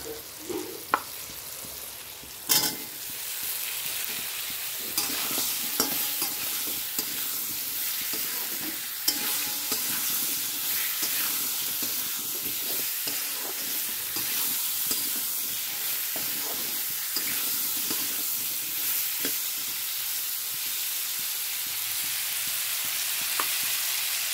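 Potatoes sizzle in a frying pan as they are stirred, a constant bright frying hiss with occasional scraping clicks of the spatula, moderately quiet and steady.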